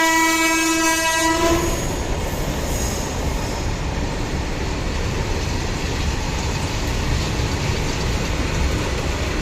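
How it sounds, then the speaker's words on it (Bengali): Local passenger train near the Kangsabati river in Jhargram, sounding a steady horn blast before its loud, continuous rumble and wheel noise close by. No one speaks. "এটা বিকেল 4টের লোকাল, এসেছে 6:30টায়।"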